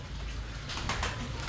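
A pigeon coos softly and close by, a few low rounded notes among rustling, with no talking.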